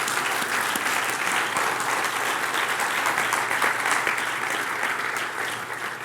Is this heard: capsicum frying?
no